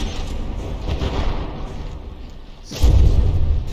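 Battleship gunfire and explosions crackle and rumble in a video game naval clash between Bismarck and New Hampshire, a continuous barrage of thuds that dips briefly before a heavy close boom lands near the end.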